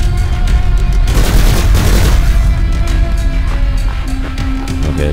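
Rolling bombs in a video game go off in a dense, loud string of booms and crackling blasts that barely pause across the whole stretch, close and overwhelming, with no talk.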